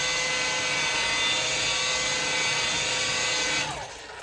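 Lake Country System 4000 pad washer spinning a car polishing pad against its plastic grooves, a loud steady whirring motor drone that drops off near the end.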